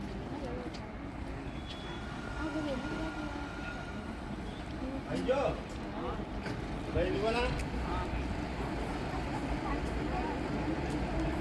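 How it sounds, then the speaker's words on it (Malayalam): Low rumbling of a train rolling into a station with steady clatter, a voice talking intermittently over the continuous mechanical noise. "ഈ ട്രെയിൻ വന്നുകൊണ്ടിരിക്കുന്നുണ്ട് കേട്ടോ"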